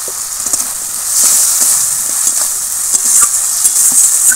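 Potatoes sizzle steadily in hot oil in a pan for a Bengali fish dish as a utensil stirs them, giving a loud, continuous frying hiss broken by faint scraping, with no voices.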